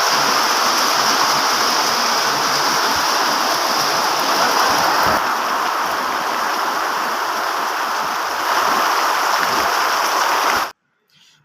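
Heavy rain pours without a break in a loud, dense wash of hiss that carries on for several seconds and then cuts off abruptly.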